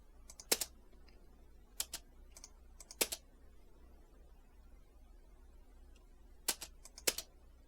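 Computer keyboard typing during work in animation software, heard as short clustered clicks in a few separate bursts against a quiet background.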